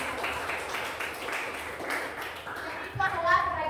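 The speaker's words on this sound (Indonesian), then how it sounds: "Kita tepuk tangan untuk Ade." A group claps steadily in a continuous patter of applause, with a voice briefly rising at the end.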